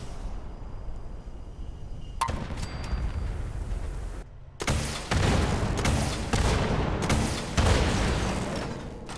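Bunker Buster missile launcher fired in Fallout 76, with loud booming blasts at about 2 s and 4.5 s followed by sustained rumbling explosions and roaring debris continuing to the end.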